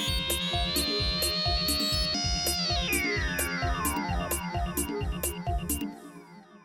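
A strident, alarm-like synthesizer pad in a trance track sustains high, then sweeps steadily upward over a loud pounding four-on-the-floor kick and hi-hats, the beat dropping out at the end.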